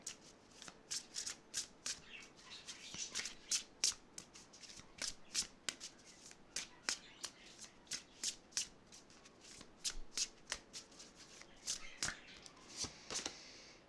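Oracle cards from a Mushroom Spirit deck are shuffled by hand at close range, giving quiet, repeated papery riffles and snaps in a steady rhythm with soft pauses between them.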